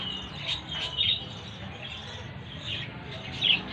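Pet birds in a backyard aviary give a few short, high chirps spaced across a few seconds, moderately near, over a steady low outdoor background hum.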